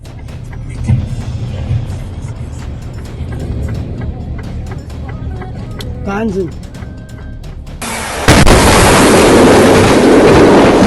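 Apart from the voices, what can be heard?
freight train crashing into truck stuck at level crossing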